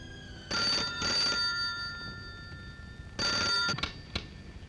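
A telephone rings inside a house in a Hindi action film, Garam Khoon: two loud bursts of bell ringing, then a pause and another burst followed by brief clicks, with no talk over it.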